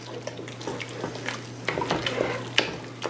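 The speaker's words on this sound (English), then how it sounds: "We'll do some there. We'll stir it in." Stock is poured into a pot of crawfish and crab stew and stirred in, giving a continuous wet sloshing and trickling with a few splashy scrapes of the spoon, steady and close over a low electrical hum.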